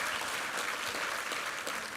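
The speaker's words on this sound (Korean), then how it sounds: "우리 하나님께 감사와 영광의 박수 올려드리겠습니다" A Sunday worship congregation gives a burst of applause in a church sanctuary, an even wash of many hands clapping at moderate distance without pause.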